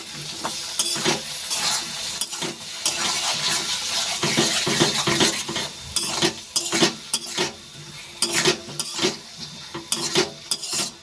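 Spice masala with cumin and garam masala being sautéed in a pan for a kochu-aloo curry, a constant sizzle broken by repeated scraping stirs that come closer together toward the end, no speech.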